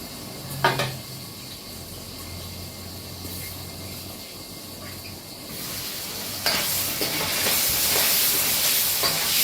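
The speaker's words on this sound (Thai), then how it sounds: "คั่วไปเรื่อย ๆ นะคะ แล้วก็ชายกับขาคั่วไปเรื่อยๆ" Jackfruit being stirred and dry-roasted in a pan, giving a steady sizzle with scraping and clattering of the spatula against the pan that grows louder toward the end.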